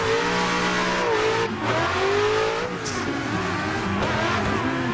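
A BMW E36 M3 drifts in the video game Klutch Kickers. The engine howls loud and steady throughout, with pitch rising and falling as the throttle is feathered. A faint tire squeal comes through the engine note.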